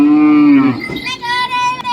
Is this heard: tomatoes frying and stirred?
no